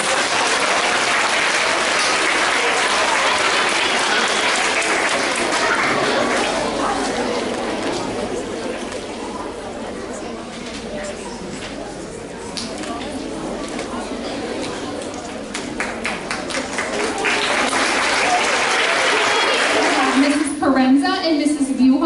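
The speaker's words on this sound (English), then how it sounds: "Let's give a round of applause." Sustained audience applause fills a school awards assembly hall, steady and dense for most of the stretch before thinning as a voice begins talking near the end.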